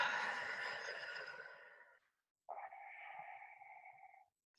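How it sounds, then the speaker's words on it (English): A slow, deep breath drawn in and let out during a guided meditation, first a long airy inhale fading out, then after a short pause a steadier, more tonal exhale, close and quiet with no talking. "Take a really nice deep breath in and out."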